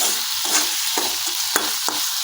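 Chopped onion, green chilli and garlic frying in hot oil for a bottle gourd leaf mash, a steady close sizzle broken by a few sharp stirring scrapes and clicks, with no talking.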